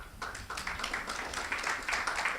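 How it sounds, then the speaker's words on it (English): Audience at a startup policy report launch clapping to welcome the panel moderator on stage, a short, moderately loud patter of hands from a small crowd. "Please, clap."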